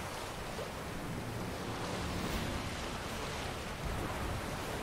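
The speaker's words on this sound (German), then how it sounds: "Weil der Wind heult." Wind blows at sea in The Witcher 3: Wild Hunt as a dense, steady rushing roar blended with surf-like wash, continuous and fairly close without speech.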